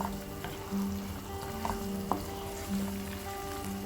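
Frozen mixed vegetables frying in a pan for sambhar, a soft steady sizzle with scattered scrapes and knocks of a spoon stirring them, fairly quiet and close.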